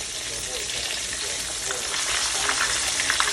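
Green tomato slices frying in hot oil, a steady dense sizzle with crackling pops, close and continuous, a voice faintly underneath.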